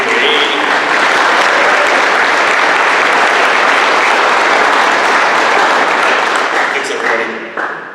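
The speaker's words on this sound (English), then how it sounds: "One more round of applause for our students that are great." Dense, loud applause from a large audience honouring students at an awards and scholarship night, sustained for about eight seconds before tapering slightly at the end.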